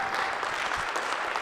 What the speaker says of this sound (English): Can we just give them a huge round of applause